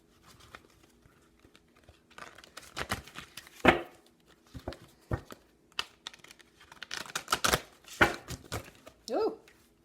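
Tarot cards being shuffled by hand, a run of crisp riffling bursts and flicks with faint sharp snaps, close and fairly quiet, with some rustle between them.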